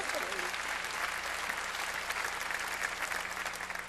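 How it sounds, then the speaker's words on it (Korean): Steady, dense audience applause from a church congregation during a sermon, continuous and fairly loud throughout with no individual voices standing out. "빨리 박수로 하세요."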